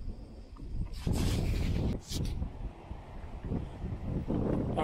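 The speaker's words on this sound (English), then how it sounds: "Alright, guys, sorry for the wind here again." Wind blows hard across the microphone beside a lake, a rumbling low roar that swells in gusts, starting softer and turning loud after the first second.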